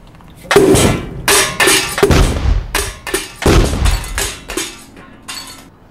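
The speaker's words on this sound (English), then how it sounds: "a laboratory demonstration of a dust explosion with household flour" A series of loud, sharp bangs and thuds from household flour dust explosions confined in a one-gallon paint can, several separate bursts with clattering after each, close by and with no talking.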